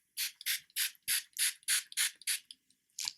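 An Essence makeup setting spray fires in a quick series of about nine sharp, hissy pumps, evenly spaced and close, with a short pause before a final burst.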